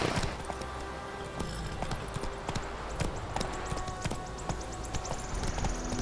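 A horse's hooves clip-clop steadily in The Witcher 3, a quick, even run of sharp hoof strikes close by over a quiet outdoor background.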